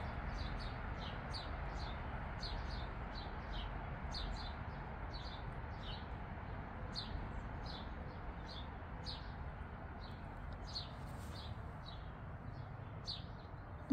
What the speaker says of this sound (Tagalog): sarap makinig ng huni ng ibon.